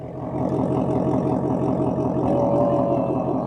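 A Ford Mustang Dark Horse V8 idles nearby with a loud, steady, throbbing rumble that stays even for a few seconds.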